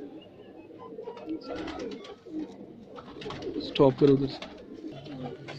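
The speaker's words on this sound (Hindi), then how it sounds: "उम्मीद करते हैं कि आपको ये हमारे कबूतर पसंद" Pigeons coo in soft, throaty bursts close by, with a louder run of cooing toward the end, while someone speaks intermittently over them.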